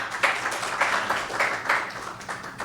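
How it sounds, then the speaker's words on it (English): Audience at a panel discussion on building social cohesion applauds, a moderate, steady patter of many hands clapping in a room, with soft swells in rhythm and no voices over it. "Another round of applause, please"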